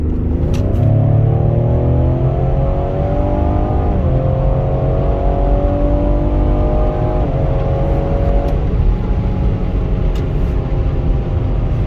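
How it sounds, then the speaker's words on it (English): A 2022 Ford Explorer ST SUV engine revs up steadily while merging onto a highway, pitch climbing through several gear shifts, loud and close with continuous road noise and no talking. "Let's see if we can merge onto the highway."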